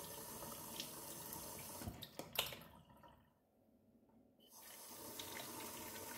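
A jet of water shooting upward and striking a small ball in a hydrodynamic levitation demonstration, heard as a steady faucet-like rush with splashing that cuts out briefly to near silence, then resumes.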